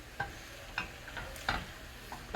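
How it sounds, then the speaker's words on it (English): Oatmeal risotto being stirred in a pan, with a spoon scraping and tapping in a few soft, irregular strokes over a faint sizzle. The sound is quiet and close, and no one speaks. "We're going to stir this all in."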